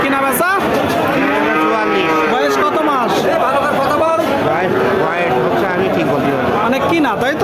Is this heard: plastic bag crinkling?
no